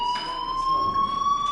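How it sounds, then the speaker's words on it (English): The fire alarm in the video game Life is Strange rings as a steady, loud electronic tone with a slow rising pitch, sounding alone with no voices over it. "Hey, do you hear that fire alarm?"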